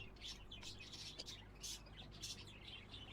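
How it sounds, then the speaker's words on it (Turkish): Birds chirping in the Exotica: Petshop Simulator video game, faint quick tweets repeating in short bursts over a low steady hum. "Kuşları da koyalım."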